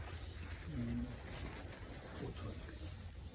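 Pigeons coo softly at a distance, a low brief call followed by another faint coo, under steady background noise.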